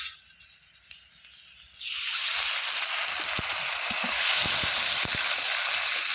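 Ginger and cumin paste dropped into hot oil with fried onions and dried chillies for a bottle-gourd and prawn dish, starting quietly then bursting into a loud, steady sizzle about two seconds in, with occasional stirring clicks and no talking.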